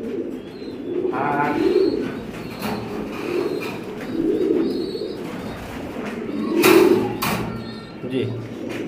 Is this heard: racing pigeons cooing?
yes